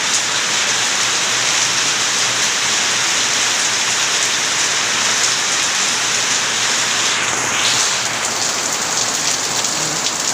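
Heavy rain pouring down in a steady, dense hiss, loud and unbroken throughout with no voices.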